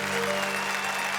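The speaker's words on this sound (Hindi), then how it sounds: "सुरेंद्र दुबे के लिए एक बार हम जोरदार तालियां बजाएं।" An audience at a poetry gathering applauding, a dense, continuous clatter of many hands, close and steady throughout the short span.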